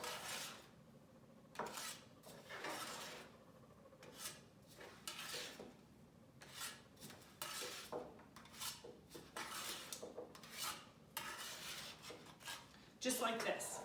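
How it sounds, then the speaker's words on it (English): A small spatula scrapes and clinks against a baking pan while cut scone dough pieces are pushed apart, with irregular scraping strokes and light metallic taps repeating close by with no talking. "I have just a little spatula here, and I'm going to take each one of these and just move them apart from each other"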